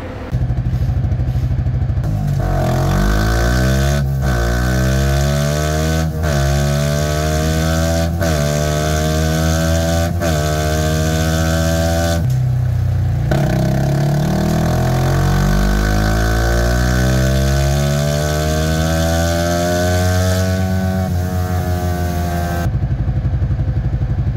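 A motorcycle engine runs steadily after a remap adjustment. It idles and revs through rising and falling sweeps for over twenty seconds, loud and close, with brief throttle blips and a short dip near the middle.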